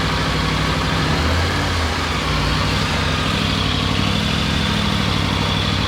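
A Triumph Tiger 900 Rally Pro motorcycle engine idles steadily and loudly during a coolant flush, a dense continuous rumble with no voices.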